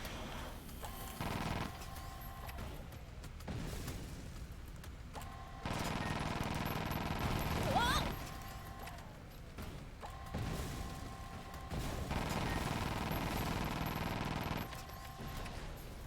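A Gatling gun fires in the video game Sand Land in repeated sustained bursts of rapid shots, loud and close, with electronic game tones running between the volleys.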